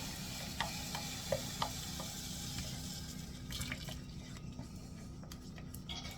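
A spatula stirs a just-boiled milk and cream mixture in a pan for pastry cream for a strawberry tart, making steady soft scraping and liquid swishing with a few sharper knocks at the start, close by, with no talking.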